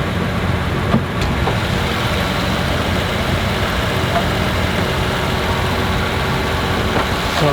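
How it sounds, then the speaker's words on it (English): A Nissan R35 GT-R T-Spec idles steadily, a loud, close, even engine rumble with no revving, held alone for several seconds. "The idle's definitely not too crazy, but nonetheless very, very cool."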